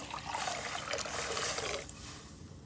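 Hot water is poured over chalta (elephant apple) pieces in sour water, making a close, splashing pour that runs for about two seconds before easing to a quieter trickle.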